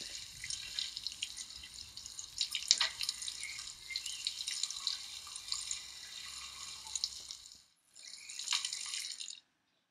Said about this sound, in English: you really have to use enough water so there is no foam coming off at all.